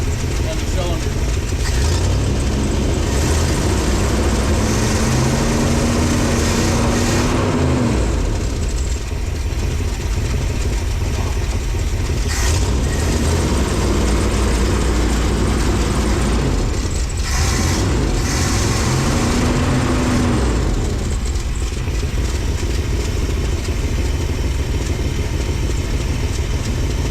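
A 1968 Chevrolet G20 van that burns coolant idles steadily after running about ten minutes, a loud, close, low rumble that carries on throughout with small shifts in pitch.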